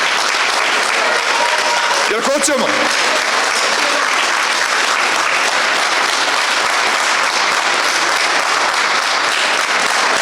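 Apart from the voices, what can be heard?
crowd applause at a political rally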